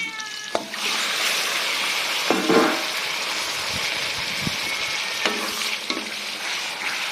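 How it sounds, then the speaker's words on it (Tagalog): Chicken going into a hot pan for adobo with ginger, giving a steady loud sizzle broken by a few stirring clanks and scrapes. "And then now we add the chicken."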